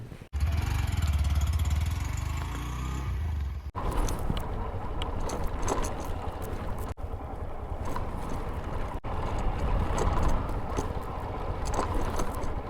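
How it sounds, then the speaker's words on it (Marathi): A motorcycle setting off on a rough, pothole-filled road, its engine running loud and close with a steady drone and rumble, bumps and rattles breaking in as it rides on. "लगेच गाडीला किक मारतो"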